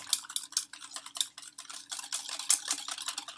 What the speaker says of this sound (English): I'm going to go ahead and whisk that together